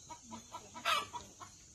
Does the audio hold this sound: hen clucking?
yes